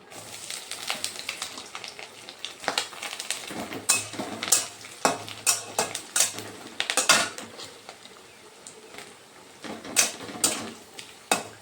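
Coconut added to hot oil with fried dried red chillies in a pan for a Sankranti mixed-vegetable dish, heard as a steady sizzle broken by repeated sharp clinks and scrapes of a spatula stirring against the metal pan, with no talk.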